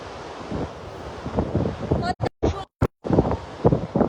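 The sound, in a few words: strong wind blowing at the outdoor live stream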